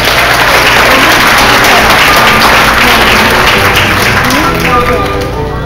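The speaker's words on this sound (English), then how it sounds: "one big round of applause, one more time." A pageant audience applauds the Junior Queen contestants, producing a loud, dense, sustained wash of clapping from a large crowd that continues steadily throughout.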